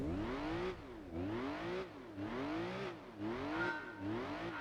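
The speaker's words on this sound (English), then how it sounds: "No, the engine doesn't sound bad either." A car engine in the racing video game Gran Turismo 3 on PS2, rising and falling in repeated revving sweeps as it accelerates through gears, steady and moderately quiet, with no talk over it.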